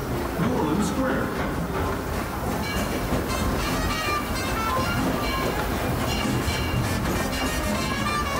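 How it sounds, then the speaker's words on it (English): Disneyland Railroad train rolling along the track toward New Orleans Square Station, a steady clickety-clack of wheels and rumbling car noise heard from on board, with a voice talking over it. "please remain seated until the train comes to a complete stop"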